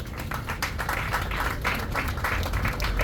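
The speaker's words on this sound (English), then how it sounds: "I think they deserve a big round of applause." Audience applause at a water main replacement ceremony: a moderate crowd clapping steadily with a dense patter of hands throughout, heard from a short distance.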